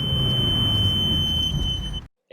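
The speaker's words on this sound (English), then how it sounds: "If a vehicle travels too fast, then an alarm will be triggered to warn nearby road users." A steady high-pitched electronic alarm tone sounds continuously over a hissy background for about two seconds, warning nearby road users of a speeding vehicle, then cuts off abruptly.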